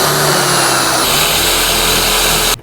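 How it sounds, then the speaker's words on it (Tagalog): A Kusama Japan heavy-duty hammer impact drill runs flat out in a loud, continuous motor roar with rough hammering texture, close up, cutting off abruptly at the end, no voices. "ito po, Kusama Japan Impact Drill."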